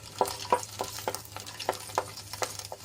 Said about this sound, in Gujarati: તેલ એડ કર્યા બાદ આપણે એમાં બારથી પંદર કળી લસણ એડ કરી લઈશું લસણને આપણે થોડુંક લાલ થાય ત્યાં સુધી સાંતળી લેવાનું છે